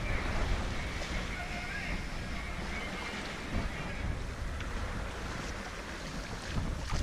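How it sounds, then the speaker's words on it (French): A fishing boat's engine drones steadily through heavy wind and sea noise off the Italian coast, with no talking, the rumble holding fairly even across the stretch. "Un bateau qui monte, je pense que c'est un bateau de pêcheur."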